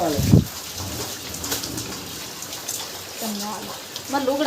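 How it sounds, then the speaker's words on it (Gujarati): Steady rain hisses in the background throughout, with people talking briefly at the start and near the end. "વરસાદ એક ધારો શરૂ થઈ ગયો અત્યારે"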